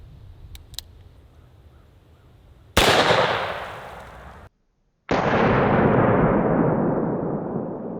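Two .44 Magnum pistol shots are fired through a pillow used as a makeshift silencer. Each is a loud, close crack followed by a long decaying echo, with a brief silent gap between them.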